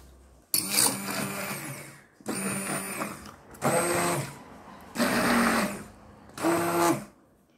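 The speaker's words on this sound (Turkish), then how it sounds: "Blender'dan geçiriyorum." A blender whirs through milk pudding in five loud bursts, each a couple of seconds long with short silent gaps between, close by and with no talking.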